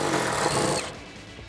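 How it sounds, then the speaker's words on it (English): An impact gun with a T50 Torx bit backing out a seat belt harness bar bolt in a 2005-2014 Mustang coupe, a short, loud, close rattling whir lasting under a second before cutting off into quiet. "Grab your impact gun and your T50 bit and remove that bolt."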